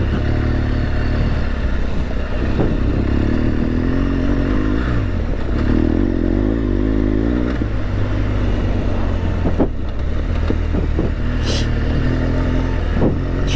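An adventure motorcycle rides hard off-road in enduro mode with no luggage, its engine droning loud and close throughout, with revving surges, rattles and scraping knocks as it rolls over rough trail.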